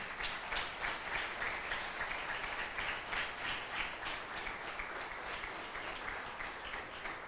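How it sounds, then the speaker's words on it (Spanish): A church congregation applauds for several seconds, a soft, even wash of many hands clapping together, distant and steady, with no talk over it. "Dale un aplauso al Señor."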